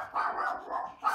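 A household dog barks in quick repeated bursts, close and loud, with no voices over it.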